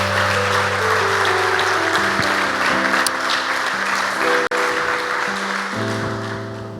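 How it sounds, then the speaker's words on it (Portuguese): A church congregation applauds in a steady, dense wash of clapping that fills the room throughout, with a tonal hum underneath. "Você pode dar uma salva de palmas a Jesus?"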